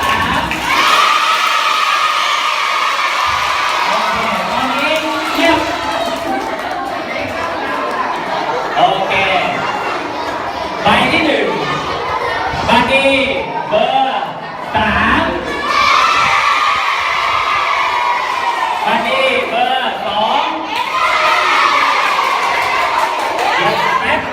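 Students at a school student-council election cheer for candidate number two, a loud, sustained mass of shouting, whooping young voices and crowd chatter in waves, with a voice calling over them.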